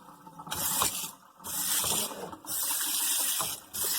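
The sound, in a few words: Bio Bidet FLOW touchless kitchen faucet pull-down sprayer spraying water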